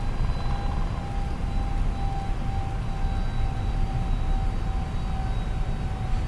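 Airbus A321neo engines at takeoff thrust in a flight simulator game give a steady, loud, unbroken roar with a faint whining tone, and no voices.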